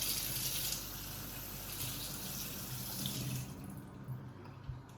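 Water runs and gushes steadily for a few seconds from an indoor plant pot, then thins to a lighter trickle as it drains away.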